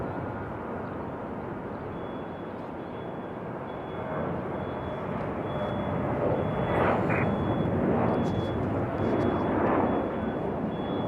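An airliner arriving at Raleigh-Durham airport, a steady broad jet roar that holds through and swells slightly toward the end, with faint voices now and then beneath it.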